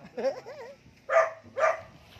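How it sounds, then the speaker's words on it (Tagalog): Dogs bark close by in a Filipino home: first a wavering whine or yelp, then two sharp, loud barks in quick succession. "Ba't ay manahimik itong mga aso?"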